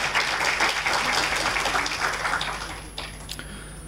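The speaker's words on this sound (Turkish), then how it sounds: "Evet, bir alkış hak ediyor kendisi." An audience at a professional chamber's council meeting applauds in a hall, a dense wash of clapping that swells briefly and then thins and fades out over a few seconds.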